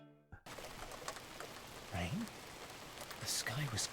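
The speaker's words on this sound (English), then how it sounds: "Rain? The sky was clear just seconds ago." Rain falling in a video game, a steady hiss of rain on surfaces that starts abruptly after a brief musical tone, with a few faint chirps and bubbly sound effects over it.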